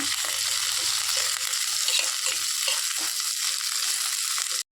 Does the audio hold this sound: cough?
no